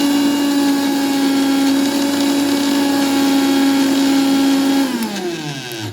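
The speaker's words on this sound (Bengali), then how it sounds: "এবার এটাকে আমি পিষে নেব।" Blanched fenugreek leaves being ground in an electric grinder, a loud steady high-pitched motor whine that holds constant for several seconds before spinning down at the end, no voices.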